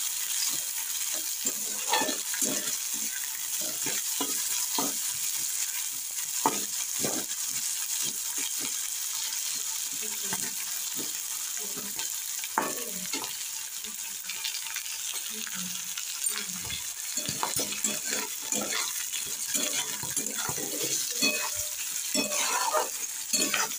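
Peas fry in a pan for simei upma, with continuous sizzling broken by frequent scraping and clinking strokes of a spoon stirring, close up and with no talking.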